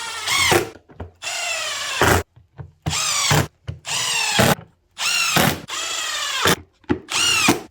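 A cordless power driver runs in repeated short, loud, close whirring bursts while fastening air box screws on a 2016 Kawasaki ZX10 motorcycle during starter replacement work, each burst pitching upward and ending with faint clicks between.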